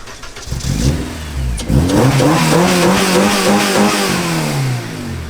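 A race car engine cranks and catches after a short stutter, then revs hard with rising and falling pitch in loud, continuous bursts.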